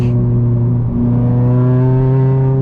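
A Mazda MX-5 ND1 accelerates hard, its engine note climbing steadily and loud and close throughout, with no voices over it.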